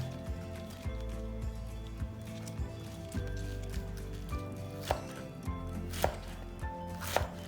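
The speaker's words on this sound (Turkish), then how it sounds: "Şimdi inşallah yeşil soğanımı doğrayacağım." Rapid, rhythmic knife chops on a cutting board, steady taps knocking close by with a faint crunch of green onions under the blade.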